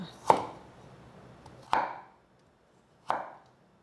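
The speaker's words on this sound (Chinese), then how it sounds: "把红萝卜切成厚片， 排整齐，切条状。" Three sharp knife chops through thick carrot slices on a cutting board, spaced about a second and a half apart, close and clear against a quiet room.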